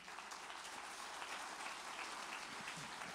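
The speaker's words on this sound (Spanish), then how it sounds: "Ahí dice un aplauso." A church congregation claps steadily throughout, a dense, even wash of applause with no speech over it and no clear rise or fall.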